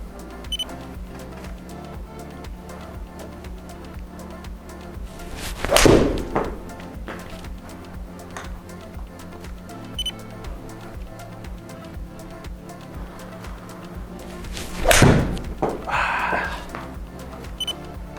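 Two sharp, loud golf shots struck with a Mizuno Pro 245 iron ring out several seconds apart during an iron fitting, each a crisp impact with a brief ringing tail over a low, steady background hum.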